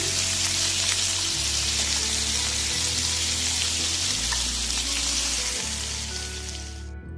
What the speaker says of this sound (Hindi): चिकन को फ्राई करते हुए इसमें थोड़ा सा मैं नमक डाल दूंगी